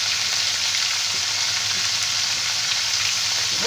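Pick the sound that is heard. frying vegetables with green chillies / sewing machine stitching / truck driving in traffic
frying vegetables with green chillies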